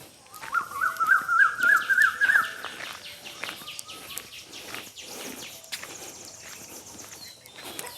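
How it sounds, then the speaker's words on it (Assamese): Assorted birds call in the forest of Manas National Park, with a loud, rhythmic series of repeated calls up close at first, then scattered chirps and distant calls over a quiet outdoor background. "ইয়াত আপোনালোকে এতিয়া শুনিব পাব বিভিন্ন চৰাইৰ মাত।"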